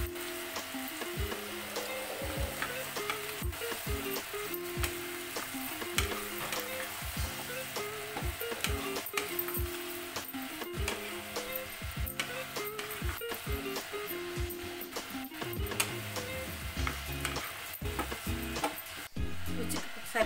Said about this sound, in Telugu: సన్నగా కట్ చేసి వీటిని కూడా దాంతోపాటు ఫ్రై చేసుకోవాలి